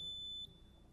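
A single high electronic quiz buzzer beep sounds sharply for about half a second at a National Science Bowl middle school match, then quiet room tone remains.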